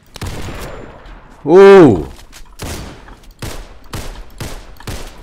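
Gunfire in the Roblox game Criminality, a series of sharp, loud shots in an irregular rhythm, broken by a drawn-out vocal exclamation near the middle.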